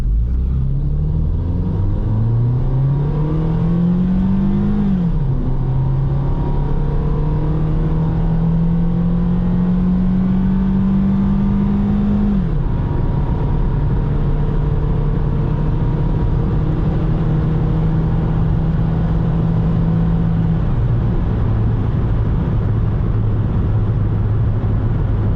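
A Toyota Yaris held in drive and floored from a standstill, engine droning upward through several gear shifts with a loud, continuous cabin rumble and no talking.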